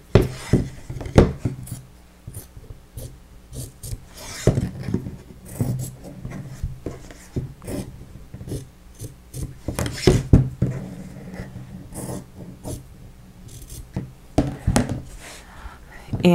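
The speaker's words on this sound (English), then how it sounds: "I'm going to take this and cut into an X pattern" Scissors snipping through fabric on a Christmas picture frame to cut an X pattern, with irregular close crisp cuts and rustling handling sounds throughout.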